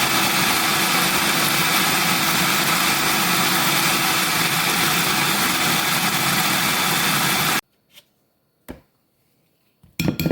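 A food processor whirs steadily as it blends a thick peanut butter dessert mixture, a loud continuous motor drone that cuts off abruptly, followed by a few faint clicks and knocks.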